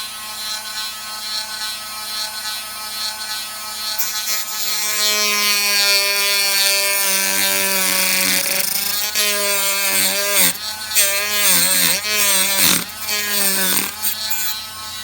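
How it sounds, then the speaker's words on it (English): A small high-speed rotary tool cutting plastic on a Ford Focus ST grille shutter whines loudly, its pitch wavering and dropping repeatedly as it bites into material, with grinding, rasping bursts. "I'm gonna use this rotary tool here to cut it off."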